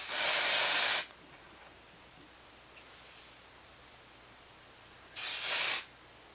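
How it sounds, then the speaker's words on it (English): Two bursts of hissing dry shampoo aerosol spray, the first about a second long and the second shorter, close by, separated by quiet room tone. "on the 3rd day my hair normally needs a good spray"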